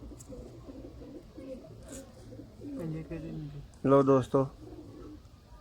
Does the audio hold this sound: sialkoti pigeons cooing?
yes